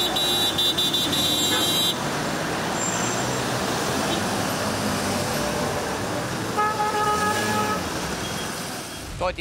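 Rush-hour traffic in Bucharest: a constant roadway roar of cars and buses with several car horns honking, some long and sustained, close and fairly loud throughout.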